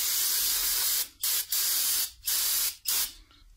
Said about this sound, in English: grab your brake cleaner